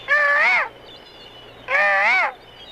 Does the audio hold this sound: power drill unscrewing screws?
no